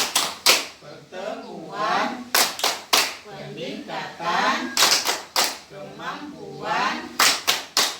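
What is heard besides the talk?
rhythmic group clapping in an ice-breaking routine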